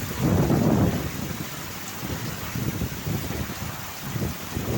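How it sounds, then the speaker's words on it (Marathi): A heavy rain shower pours steadily while strong wind gusts rumble through, loudest at the start. "जोरदार खूप वाऱ्याबरोबर जोरदार एकदम सर आली"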